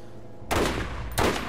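Two loud, sharp sniper rifle shots in the video game Borderlands, about two-thirds of a second apart, each a sudden blast with a short decaying tail, with no talk over them.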